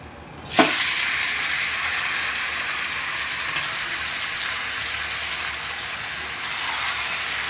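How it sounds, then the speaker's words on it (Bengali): Chicken pieces drop into hot oil after potatoes were fried in it, a sharp hiss bursting out at once and settling into a loud, continuous frying sizzle that runs on steadily with no talk. "এবার ওই তেলের মধ্যে আমি চিকেনগুলোকে একটু ভেজে নেবো"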